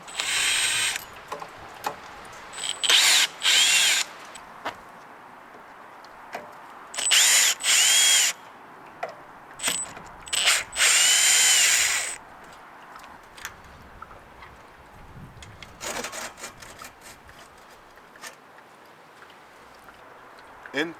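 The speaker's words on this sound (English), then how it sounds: "I'm going to take my drill, my T30. I'm going to take these 4 bolts out" A power drill with a T30 bit backs out four bolts holding a vehicle light bar, short whirring bursts of several seconds each with pauses between, plus softer clicks and handling sounds.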